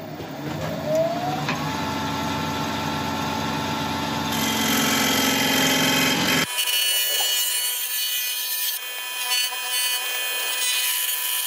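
A wood lathe turns a figured ash bud vase, a steady motor hum with tool scraping that cuts off abruptly, leaving a quieter hiss.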